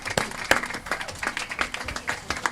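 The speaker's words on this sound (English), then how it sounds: "So round of applause for that" A small crowd claps for a high school football team's overtime comeback effort, scattered uneven hand claps in a brief burst, fairly close and light.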